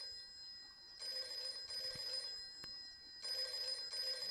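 A voice imitates a ringing telephone bell in two bursts of rapid trilling, moderately loud with a short pause between, no other talk.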